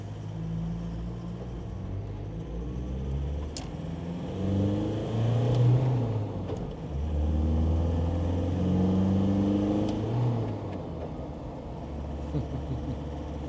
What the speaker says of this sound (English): Nice to hear a sports exhaust on a Puma.